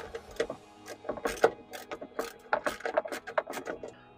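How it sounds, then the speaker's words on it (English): Headliner bolts are worked loose inside a Volvo VNL truck cab, with quick, uneven ratcheting clicks and metallic ticks close by, coming in short bursts. "Remove these 4 bolts here and here to attach the mount."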